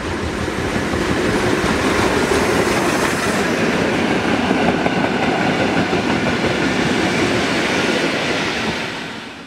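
Prussian P8 steam locomotive 38 2267 works through Kettwig station during a summer festival shuttle run, a loud, steady rush of running gear and rail clatter filling the whole stretch with no voices.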